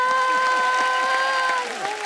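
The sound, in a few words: studio audience applause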